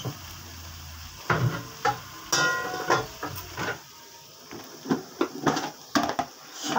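A spice mix being stirred in a frying pan for cauliflower rezala: a soft sizzle underneath sharp, irregular scrapes and clacks of a utensil against the pan, near and bursty.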